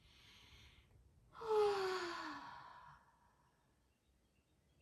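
One long, audible exhale during a guided meditation, a breathy sigh rising suddenly and fading over about a second and a half, close and soft, after a quiet, still room.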